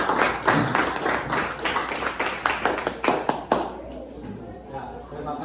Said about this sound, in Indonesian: berikan aplaus buat kami.